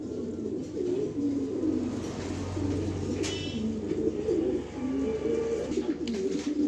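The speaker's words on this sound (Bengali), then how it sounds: "এই দেখেন কবুতর জোড়া একটু লং টাইম নিয়ে দেখাই দিলাম" A pair of club racing pigeons cooing close by, repeated low throaty rolling coos in overlapping phrases with a soft background hum.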